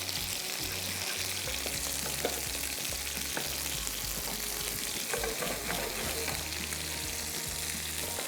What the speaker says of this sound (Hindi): अब इसके अंदर हमने गार्लिक को जो है वो करना है सौते